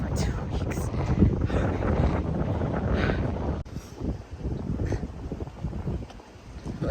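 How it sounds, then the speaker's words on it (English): Wind gusting across a seaside boardwalk in Wildwood, New Jersey, a loud rumbling buffet on the microphone that eases after a few seconds, with faint voices mixed in. "the breeze was working against me too. So I was fighting the breeze."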